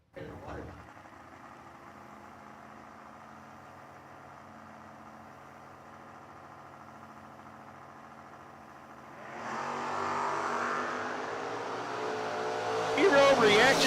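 Drag race cars, including a Camaro, at a footbrake challenge: a steady low engine rumble idles for several seconds, then swells into a louder, harsher roar that builds toward the end.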